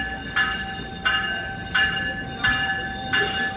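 An NJ Transit train passes at Trenton Transit Center station, its railcars rolling by close with rhythmic wheel clatter that repeats in evenly spaced bursts, accompanied by a steady tonal whine; no talking.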